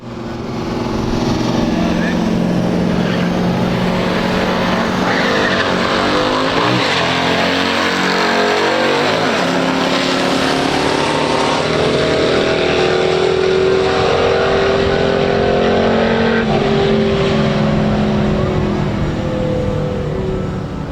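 Loud, continuous engine roar of a 1963 Impala SS 409 and a 1969 Oldsmobile Cutlass W31 in a stock drag race, with revving and rising pitch as they accelerate, steady and close throughout.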